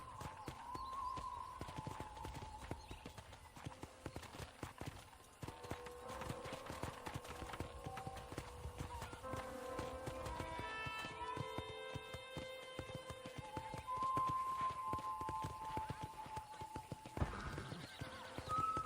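Rhythmic clip-clop of horse hooves at a walk in Red Dead Redemption, with a horse whinnying and soft game music tones in the background.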